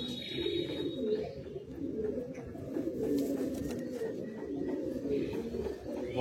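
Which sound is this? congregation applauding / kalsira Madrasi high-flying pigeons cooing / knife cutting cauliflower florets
kalsira Madrasi high-flying pigeons cooing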